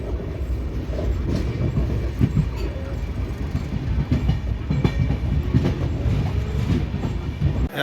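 A passenger train runs on rails near Bongaigaon station on a journey to Hamiltonganj. From inside the carriage comes a continuous loud rumble with rhythmic clickety-clack from the wheels and a faint squeal of wheels on rails.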